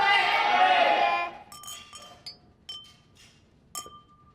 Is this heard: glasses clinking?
yes